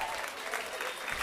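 An audience claps at a charity jazz concert as a performer is welcomed to the stage. The applause is dense and sustained, filling the hall with a host's voice over it.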